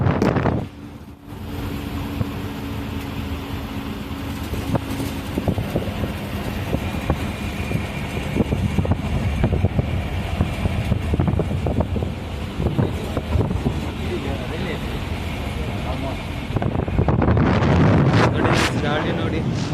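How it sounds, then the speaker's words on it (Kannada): Strong wind buffeting the microphone outdoors, a heavy continuous roar and rumble that swells and gusts throughout, with a voice speaking intermittently beneath it and a louder burst near the end. "ಸಖತ್ತಾಗಿ ಗಾಳಿ ಬೀಸ್ತಾ ಉಂಟು"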